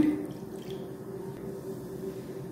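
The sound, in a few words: pouring water into cooked lentils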